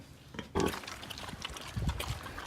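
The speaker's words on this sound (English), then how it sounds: "Hungry pigs. Just like what they always are." Hungry farm pigs grunt and snuffle in short, scattered bursts, fairly faint and close, with a light wet trickling sound in the background.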